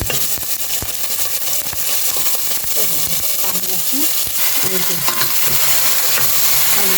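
Meat with spices and water hits garlic frying in a pan, setting off a loud, steady hiss and sizzle with stirring scrapes, and a voice speaking over it now and then.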